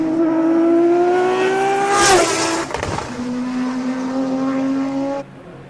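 A race car engine screams at high revs on a hillclimb, pitch climbing steadily, dropping briefly during a gear change, then pulling hard again before cutting off abruptly.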